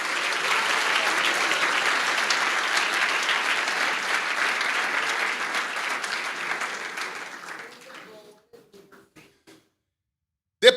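Sustained applause from a church congregation during a sermon, steady and full for about seven seconds before thinning into a few scattered claps and fading out.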